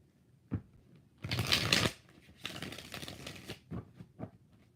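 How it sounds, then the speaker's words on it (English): Tarot cards are shuffled close by in a couple of long riffling bursts, with a few sharp taps as the deck is squared between them. "2 more shuffles."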